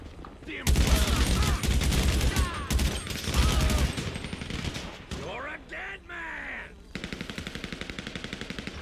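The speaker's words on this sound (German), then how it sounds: "Die haben Gatling." Rapid Gatling gun fire in GTA Online bursts loudly in long sustained volleys, broken by pauses and mixed with other game noise, then returns as a steady rattling stream near the end.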